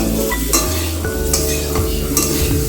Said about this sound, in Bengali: এই যে পটলটা ভাজছি আমি